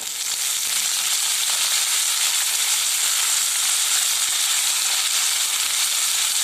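Tomatoes frying with browned onions in a pan for dhaba-style paneer masala, a steady, dense sizzle that holds evenly close up throughout, with no talk.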